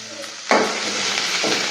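Onion and garlic dropped into hot oil in a pan for a Kadle manoli sukka, a sudden loud sizzle that then settles into a steady frying hiss with light stirring.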